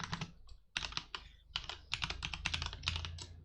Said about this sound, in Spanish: Igual suena lindo el teclado